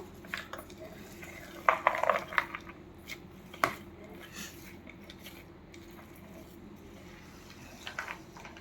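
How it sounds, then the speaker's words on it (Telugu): A spoon scrapes and clinks against a pan while rava laddu mixture is stirred together with fried cashews and raisins, with a busy cluster of metallic scrapes early on and then quieter, sparse scraping, close and fairly soft. "అవి కూడా వేస్తున్నాను మళ్ళీ ఒకసారి అంతా కలిపేసుకుందాం"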